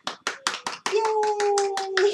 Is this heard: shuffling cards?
no